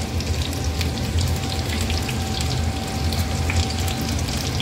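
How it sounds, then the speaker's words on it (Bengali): Marinated chicken pieces for chili chicken fry in a pan, giving a continuous crackling sizzle with scattered pops, steady and close with no talk. "দেখো ভাজছি, এবার চিকেনগুলো ভেজে নিচ্ছি।"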